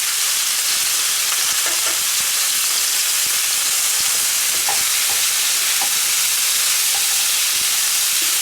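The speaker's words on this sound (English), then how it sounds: "Now I want these vegetables to saute, but I don't want them to burn, certainly." Vegetables and flaked salmon for a stir fry sauté in a hot pan, giving a loud, continuous sizzling hiss with occasional faint stirring taps, and no one speaking.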